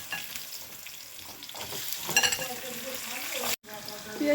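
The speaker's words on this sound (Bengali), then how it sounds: "আলুটা এখন ভাজবো আর সয়াবিন ভাজবো।" Potatoes fry in hot oil seasoned with salt and turmeric, a steady close sizzle with stirring scrapes and a short dropout near the end.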